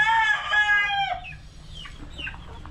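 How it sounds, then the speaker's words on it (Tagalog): Boston Roundhead gamefowl chickens in a backyard give a loud, close crowing call and then trail off into softer clucks, with no voices in between. "Yung ating Boston Roundhead na marami natin."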